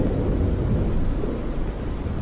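A thunderstorm in the horror game Pacify: a continuous deep rumble of thunder under a steady wash of heavy rain, dense and close with no voices.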